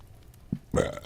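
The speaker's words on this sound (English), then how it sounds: "Oh, pardon me, I didn't mean to burp like that." A person lets out a short, throaty burp, a brief low grunt followed by a louder, rougher belch, close to the microphone, with no other talking.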